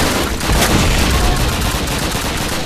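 Loud, dense bursts of gunfire in Call of Duty: United Offensive blend into a continuous roaring barrage with no pauses.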